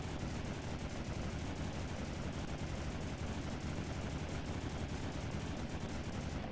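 A vessel's guns in the video game From the Depths fire in a dense, unbroken barrage of rapid shots, loud and continuous throughout, with no talking.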